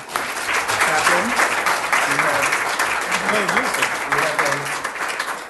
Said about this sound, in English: So let me ask for another round of applause.